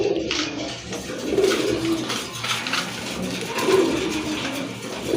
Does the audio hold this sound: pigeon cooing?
yes